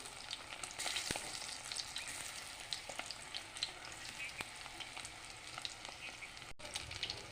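Boiled eggs frying in a pan for egg chilli, giving a steady, dense sizzle with faint crackles and a few sharp ticks, at a low level and without talk.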